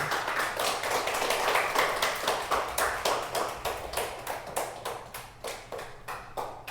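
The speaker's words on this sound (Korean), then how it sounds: "함께 한가 박수 해드리겠습니다" A church congregation at a Sunday service claps in unison, a steady rhythm of sharp, close handclaps that keeps going and slowly grows quieter, with no voices over it.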